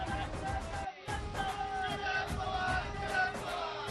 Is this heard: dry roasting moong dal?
no